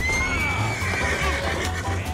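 A horse neighs loudly in the video game Red Dead Online, a close, drawn-out whinny with faint game noise around it.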